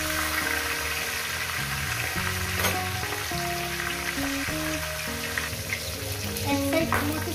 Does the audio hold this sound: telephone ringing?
no